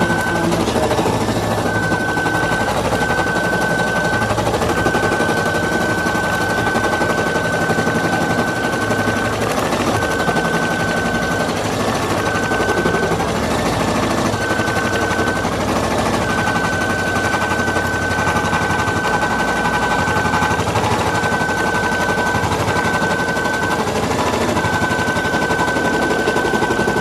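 An embroidery machine stitches felt masks, giving a steady, rapid mechanical chatter with a thin whine on top that runs unbroken and fairly close throughout, with no talking.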